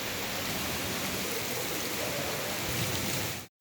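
Heavy monsoon downpour in Lahore, a dense, even roar of rainfall that stays loud throughout before cutting off abruptly at the end.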